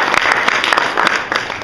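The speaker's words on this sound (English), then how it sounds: "Give them a round of applause if you don't mind." An audience at a hypnosis show claps in a brief, full round of applause, steady and dense throughout.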